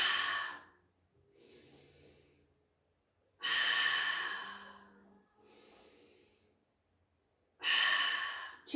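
Deep, slow breathing during a guided exercise session, three long loud exhalations with airy rushing texture separated by quieter inhalations, close and rhythmic with pauses between breaths.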